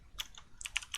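Keystrokes on a computer keyboard while Python code is typed, a quick irregular burst of close, crisp clicks with short pauses between.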